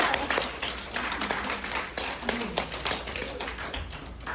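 An audience at a leadership event claps in scattered, uneven bursts, individual hand claps standing out against a low room hum.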